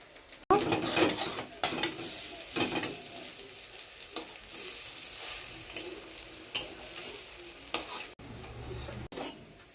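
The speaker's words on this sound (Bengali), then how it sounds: "তেল গরম হয়ে গেছে, বড়াটা ভেজে নেব, কুমড়ো ফুলের বড়া।" Pumpkin flower fritters fry in hot oil in a home kitchen, a close, steady sizzle broken by spatula scrapes and pan clatter, with several louder bursts as pieces are turned or added.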